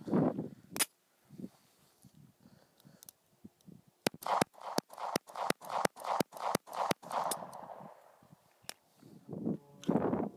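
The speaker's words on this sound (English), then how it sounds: "we're going to go through 10 as fast as I can pull the trigger" A SCCY CPX 9mm pistol fires about ten rounds in rapid succession, each shot a sharp, evenly spaced crack followed by faint echo, loud and close, with softer handling sounds before and after the string.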